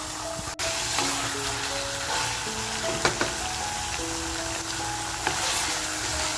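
Mutton for methi mutton fries over a full gas flame, a loud continuous sizzle with a sharp clank near the start and occasional stirring knocks, no one speaking.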